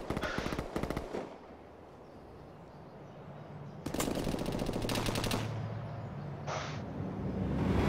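Enemy burst fire in Call of Duty, a rapid clatter of shots early on, a longer sustained burst in the middle and a short spurt near the end, over steady background noise with no talking.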